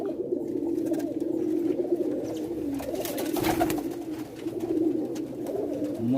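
A flock of rare white-necked Sialkoti pigeons coos continuously nearby, layered low rolling calls overlapping without pause, with a short burst of flapping in the middle.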